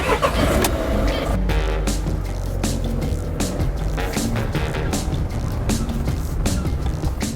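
A 2019 Citroën Relay van with a 2-litre BlueHDi diesel engine drives along at steady speed, its engine a low continuous drone mixed with road and tyre noise, with occasional bumps and rattles.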